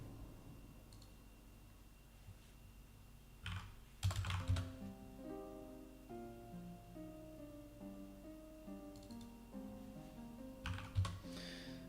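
Rapid keystrokes on a computer keyboard clatter steadily in close irregular bursts, with a few louder clustered presses standing out, during a session of building a dungeon set in Unreal Engine.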